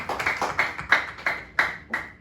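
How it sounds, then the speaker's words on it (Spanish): Church congregation applauding during a sermon, a short burst of rhythmic clapping with sharp, close claps in a reverberant hall. "Démosle un fuerte aplauso al Señor"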